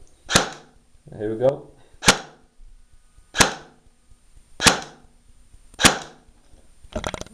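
A G&G M16 Carbine airsoft gun dry-fired with no BBs: a series of sharp, crisp mechanical snaps spaced about a second apart, each one alone and close. A short spoken phrase comes between the first shots.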